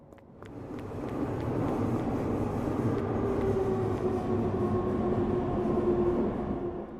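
A video-game train rolls past in a steady, loud rumble, building within the first second and holding as a dense low roar with a faint whining tone and occasional clacks, with no talking.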